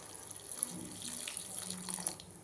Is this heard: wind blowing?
no